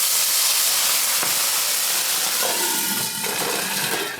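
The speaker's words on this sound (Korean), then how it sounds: "화이트 와인을 팬 가장자리에 이렇게 둘러서" White wine hits the edge of a hot pan while cooking vongole pasta with clams, producing a loud, broad steaming sizzle that hisses continuously throughout.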